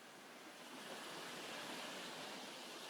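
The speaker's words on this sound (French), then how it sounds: "Écoutez le bruit des vagues. Elles arrivent, elles roulent, elles s'écrasent doucement sur le rivage" Ocean waves rolling and breaking gently on a shore make a steady, soft, broadband wash, faint and distant, with no voices.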